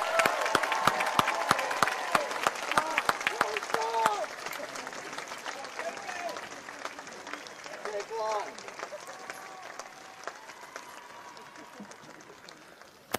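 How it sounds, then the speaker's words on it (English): A graduating class of 2021 is applauded by a crowd at an evening high school graduation ceremony, with scattered sharp claps rising over a murmuring audience and voices, fading over several seconds. "How about a round of applause for the class of 2021?"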